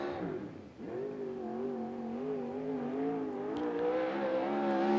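A USAC Southwest race car at Central Arizona Speedway howls through a qualifying lap, a steady loud engine tone rising and falling slightly as it circles, close and continuous with no talk.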